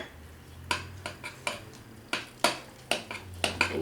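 A spoon stirs a mixture of buttermilk, butter, garlic pepper and chopped chives in a bowl, giving a faint series of light clinks and taps at an irregular pace.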